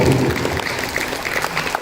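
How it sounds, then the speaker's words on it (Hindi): A hall audience at a Diwali celebration at Bhavans Goa claps for the organising team, a dense, steady wash of applause filling the room without pause. "जोरदार तालियां इन 3 सुंदरियों को"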